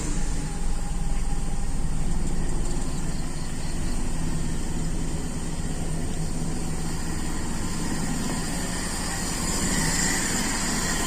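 A warm car engine idles steadily at close range, a continuous low rumble with a faint mechanical hum that holds an even level throughout.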